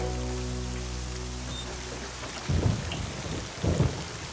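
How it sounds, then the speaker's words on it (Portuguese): Steady heavy rain hisses throughout a thunderstorm while deep rumbles of thunder roll in twice near the end, loud and without voices. "Bem, parece que essa chuva não vai passar tão cedo, crianças."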